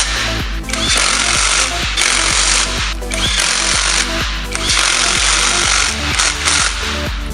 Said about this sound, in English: After reinstalling the tire back on, I had to make sure that the lug nuts were tight.